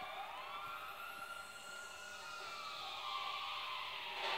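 Police car sirens in GTA 5 Online wail in overlapping rising and falling sweeps, several units at moderate distance, growing slightly louder toward the end.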